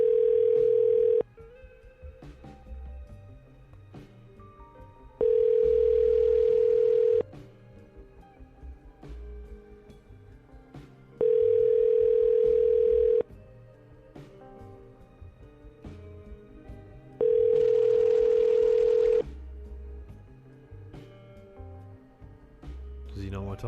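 Telephone tone sounding in long repeated bursts, about two seconds on and four off, while calling a local TV station's news director in Nashville, with a low background bed between tones.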